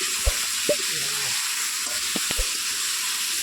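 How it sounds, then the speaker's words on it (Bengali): Poultry meat fries in a pan with a steady hiss and crackle, broken by a few sharp clanks and scrapes as a utensil stirs it, close and continuous. "ভালো করে লাল করে ভেজে নিলে পরে ভালো হবে"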